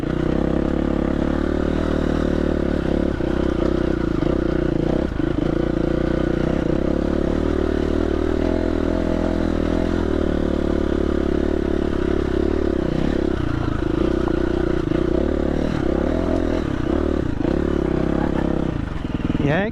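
KTM 350 dirt bike climbing uphill in first gear, its engine droning steadily and loud throughout with small shifts in pitch and some clatter from the terrain.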